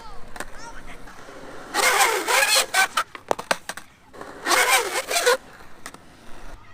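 Skateboard rolling on Bones Easy Streets wheels during flat spot testing, two loud bursts of hard wheel scraping and sliding separated by sharp clacks and pops of the board.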